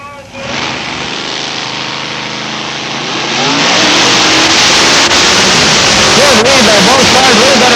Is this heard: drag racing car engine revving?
yes